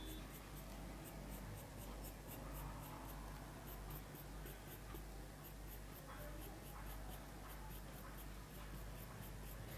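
A soft 10B pencil sketches long grass strokes in a landscape drawing, a faint, steady scratching that repeats in quick, short marks, close up and quiet, with no talk.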